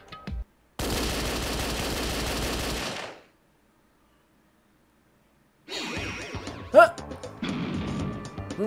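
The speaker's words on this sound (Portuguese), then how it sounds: "Um tiroteio?" Gunfire from a gun linked to a surveillance camera in the Danganronpa Another game, a dense, loud burst of rapid shots lasting over two seconds, then silence, then voices over sharp clattering effects.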